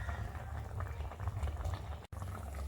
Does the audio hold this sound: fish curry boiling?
yes